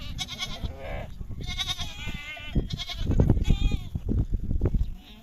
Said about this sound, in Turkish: Halen anilerini arayan olaklar var